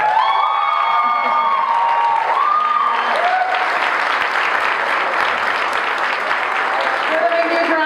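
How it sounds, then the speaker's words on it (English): Audience applause with cheering and whoops at a live evening event as two organisers are welcomed onto the stage; loud, dense clapping fills the room steadily, with harmonic shouts and voices rising through it early on. "Give them a huge round of applause."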